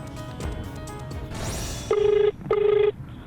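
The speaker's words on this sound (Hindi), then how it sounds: "और जब हमने दोबारा फोन मिलाया तो नंबर व्यस्त हो गया।" A telephone line on a redial gives two long, even electronic tone pulses with a short gap between them, clear and close, after a stretch of background noise.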